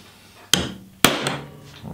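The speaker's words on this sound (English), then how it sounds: "it's a good idea to use a center punch just to make a dent where your hole is going to go" Two sharp hammer strikes on a steel center punch dent a metal ammo can for drilling, evenly spaced about half a second apart, loud and close with a metallic ring fading after each blow.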